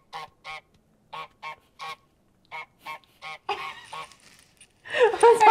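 Cartoonish goose honks from Untitled Goose Game sound in short rhythmic pairs and bursts, loud and close, followed by a brief flurry of busier honking and a louder final squawk.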